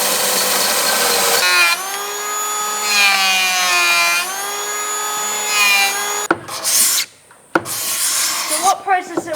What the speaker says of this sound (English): Alright, this is scraping.